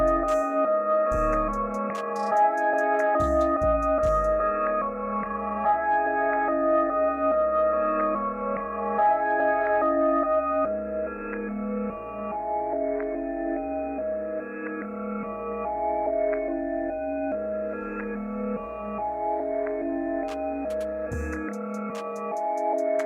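A pitched-down, mellow melody with a warm wash of reverb plays over a deep pulsing bass line and light ticking percussion, continuous and steady, no voices.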